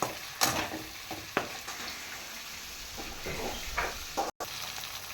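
Tomato pieces frying in a pan for egg fried rice, a steady soft sizzle broken by a few sharp scrapes and stirs of a utensil, close and moderately loud, with no talking.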